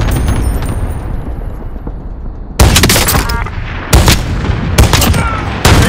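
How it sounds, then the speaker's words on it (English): Allied cluster strike explosions in a video game: a rapid series of loud, close, sharp blasts lands in bursts, each cracking over rumbling battlefield noise. "Allied cluster strike inbound."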